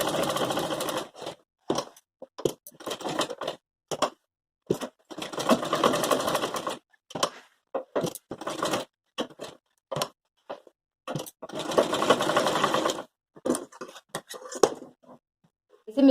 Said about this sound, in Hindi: नेपा बनाने के लिए मैं यहाँ पर इसके चारों ओर सिलाई लगा दूंगी।